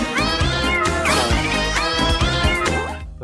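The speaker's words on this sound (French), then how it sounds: "Le chat a gueulé, les cafards ont manifesté" Cartoon cat from Oggy and the Cockroaches yowling and caterwauling loudly, a string of drawn-out wavering meows with bouncy background music, dropping off abruptly at the end.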